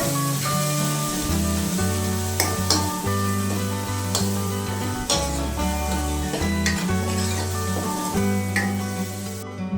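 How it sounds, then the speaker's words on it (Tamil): Peanuts rattle and scrape in a hot pan over a low flame as they're stirred steadily for roasting, with a constant sizzling hiss and occasional clinks of a spatula. "இதை லோ ஃப்ளேமில் வச்சு ஒரு 2 மினிட்ஸ்க்கு வறுத்து விட்டுக்கோங்க."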